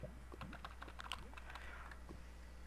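Typing on a computer keyboard while playing Minecraft, a steady run of quick, light key clicks at close range against a low background hum.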